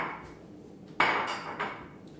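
Close kitchen clatter of a utensil against a cup while shrimp are mixed with yogurt sauce: one sharp clink followed by a couple of softer scraping knocks, fairly quiet.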